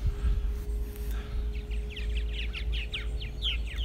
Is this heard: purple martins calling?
yes